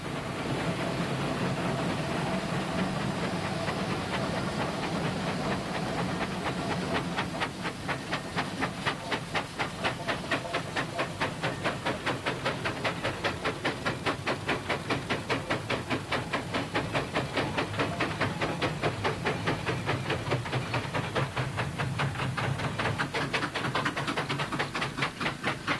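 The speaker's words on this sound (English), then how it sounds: "Just listen to those engines working." Steam traction engines working together, the lead engines pulling and a rear engine acting as a brake, giving a continuous hiss with a fast, steady rhythmic chuffing and clatter throughout.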